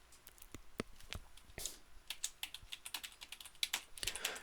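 Login credentials are typed on a computer keyboard, producing close, quiet, uneven key clicks in quick runs with short pauses.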